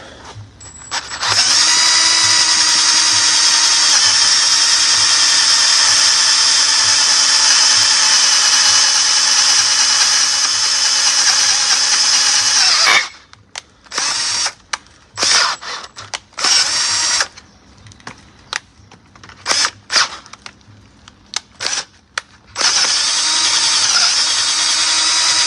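A loud power drill with a 9mm bit whines steadily for several seconds, then stutters in short on-off bursts before running continuously again near the end.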